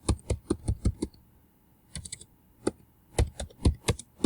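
Rapid bursts of clicking keystrokes on a computer keyboard come in quick runs separated by short pauses, close and crisp with no talking.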